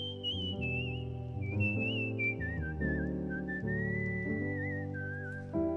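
A person whistles a smooth, wavering melody close to the microphone over a warm sustained piano accompaniment, clear and continuous throughout.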